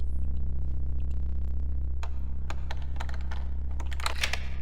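Lockpicking on a locked door in the stealth game Thief Gold produces a series of small metallic clicks and ticks over a steady low droning hum, growing busier toward the end.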